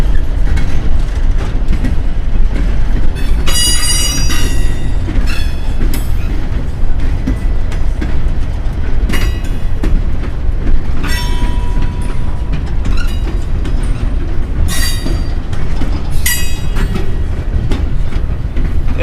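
Norfolk Southern freight train 471 rumbles past loudly and steadily at the south end of DeButts Yard in Chattanooga, with repeated high metallic wheel squeals cutting in over the continuous roar.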